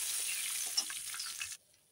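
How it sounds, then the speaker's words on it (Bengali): Whole cumin seeds and two bay leaves fry in hot oil for a tempering, giving a close, steady sizzle with small crackles that cuts off abruptly near the end. "এখন ফোড়নটা ভেজে নেবো।"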